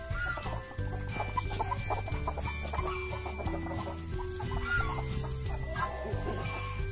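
Several Basilan hens cluck and vocalise together on a free-range farm, a busy overlapping chorus of close and mid-distance calls with no voices over it.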